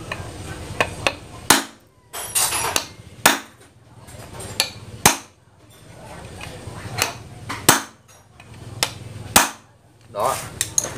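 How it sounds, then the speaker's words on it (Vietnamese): Sharp metallic hammer blows drive a screwdriver onto a screw on a Honda Wave 100 motorbike, about a dozen close, loud strikes in an irregular rhythm with short pauses between them. "đóng cái đầu ốc tô vít ở trên này để cho nó in xuống xuống cái rãnh này"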